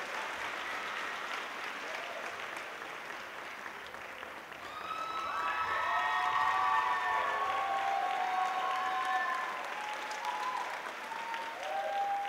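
An audience applauds after a student dance performance at a college fall dance showcase, broad clapping swelling louder midway with cheers and whoops rising over it, sustained to the end.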